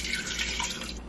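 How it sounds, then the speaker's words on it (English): Tap water runs steadily into an electric kettle, a brief close splashing stream with no voices. "So first I'm going to go into my electric kettle and put some water."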